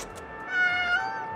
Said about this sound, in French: regarde ce chat